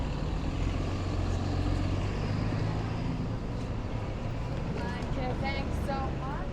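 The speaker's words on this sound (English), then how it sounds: "Got the school bus bearing down on me." A school bus rumbles close by on a busy Brooklyn street in Borough Park, its heavy engine drone steady and loud amid constant traffic noise, with faint squeaks near the end.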